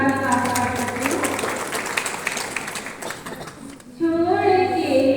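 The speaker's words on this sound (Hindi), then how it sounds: "तो प्लीज एक बार और जोरदार तालियां," An audience claps at a Hindi poetry recital, a dense burst of applause filling the room before fading, with someone speaking and singing over and after it.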